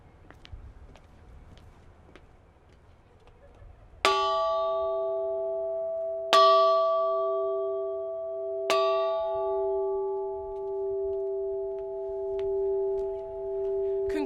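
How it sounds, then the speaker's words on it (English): Maryville University's graduation bell is rung at a 2021 master's commencement ceremony: three clear, loud strikes roughly two seconds apart, each leaving a long sustained ring that blends and lingers, with a quiet room beforehand. "today, we are closing this chapter through the ringing of our bell"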